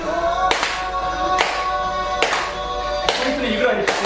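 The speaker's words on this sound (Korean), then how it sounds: "잘 모르시면 박수 치시면 되니까" An audience claps hands together in unison during a dementia lecture, sharp bursts repeating roughly every second at a fairly loud level over faint background noise.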